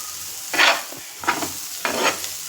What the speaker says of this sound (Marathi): मिक्स करून घेतलं मस्त आणि कमी गॅसवरच परतवायचा